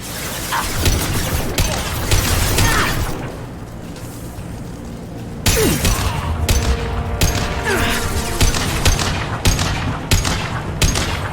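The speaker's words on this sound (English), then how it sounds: "The Blue Suns and Vorcha shooting anything that moves." Rapid volleys of gunfire from Blue Suns mercenaries and Vorcha in Mass Effect 2, loud bursts and sharp repeated shots that pause briefly and then resume in dense crackling runs.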